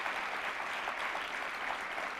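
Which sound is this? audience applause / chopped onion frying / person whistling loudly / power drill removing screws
audience applause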